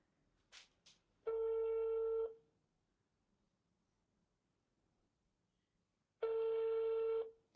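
A telephone busy signal during a live lottery call: two long, loud, steady buzzing tones about five seconds apart, with brief faint chirps before the first and near silence between them.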